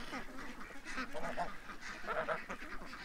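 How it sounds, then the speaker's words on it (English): A flock of ducks quacks and honks in a busy, overlapping chorus near a pond, steady and fairly close, with a faint voice at times. "Yeah, half the ducks are over at the pond."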